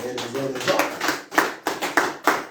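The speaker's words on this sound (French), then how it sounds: "T'acclamez pour la gloire de Dieu." A church congregation claps along, a string of sharp, fairly close hand claps in an uneven rhythm, mixed with voices speaking and calling out.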